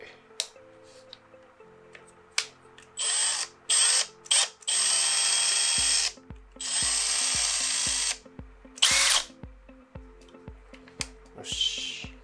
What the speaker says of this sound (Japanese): ドリルにホールソーをセットして、